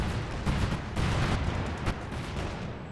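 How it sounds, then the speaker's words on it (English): Butterfly bomb strike in Company of Heroes 2 during a 4v4 match in Lienne Forest: a dense, continuous rumble of overlapping blasts and crackling detonations, loud and close, with no distinct gaps. "here comes another butterfly bomb"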